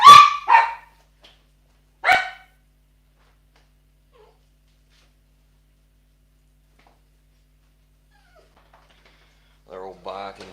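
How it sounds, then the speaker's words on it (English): Several household dogs bark in short, loud bursts near the start, with another bark about two seconds in; then comes a long quiet stretch before faint yips near the end. "They're all barking because the girls just came home."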